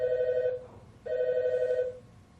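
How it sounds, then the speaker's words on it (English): A telephone rings twice, each a sustained electronic tone lasting under a second, separated by a short pause, clear and close over a quiet background. "Phone call for me."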